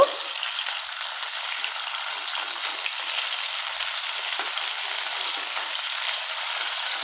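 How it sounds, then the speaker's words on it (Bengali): Flat beans (shim) frying lightly in a pan give off a steady, moderate sizzle that holds even and unbroken throughout, with no voices. "আর দিয়ে দেবো শিম। এগুলো আমি হালকা একটু ভেজে নেব।"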